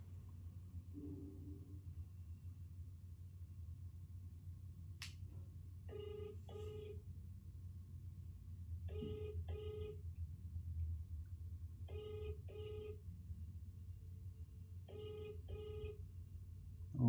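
A phone call being dialed, with a steady low hum underneath and four evenly spaced pairs of short electronic ring tones, about three seconds apart, after a brief click.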